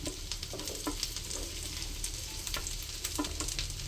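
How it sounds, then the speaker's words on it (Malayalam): Garlic and green chillies sizzle in hot oil for a chicken soup, a continuous, even frying hiss with a few faint stirring clicks, fairly quiet and with no voices. "വെളുത്തുള്ളി ഒന്ന് ചൂടായി വരുന്നുണ്ട്. നമുക്ക് പച്ചമുളക് ഇട്ട് കൊടുക്കാം."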